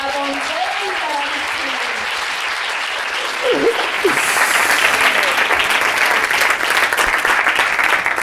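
A crowd gives a speaker a steady round of applause at a startup event, the clapping sustained throughout and swelling slightly midway, with a voice speaking faintly at the start.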